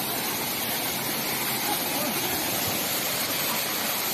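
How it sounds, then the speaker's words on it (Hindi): A mountain waterfall along the Kedarnath trek roars in a constant, dense rush of falling water, close and loud, with no break for several seconds. "आपको जगह जगह ऐसे झरने देखने को मिलेंगे।"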